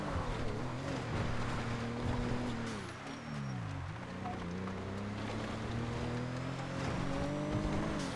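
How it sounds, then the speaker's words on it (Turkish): A car engine in a roleplay video game drones steadily at close range, its pitch dipping and recovering midway as if slowing then accelerating, with faint game ambience and no clear speech. "Aha bir araba var."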